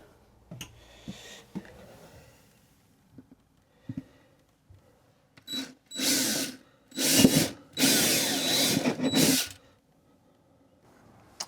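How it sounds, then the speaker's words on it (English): Power drill boring through a caravan wall to fit a Thetford toilet ventilator, with several loud bursts of whirring and grinding in quick succession after a few light knocks and clicks, ending quietly. "I've put the drill through"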